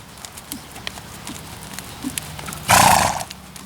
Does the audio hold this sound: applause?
no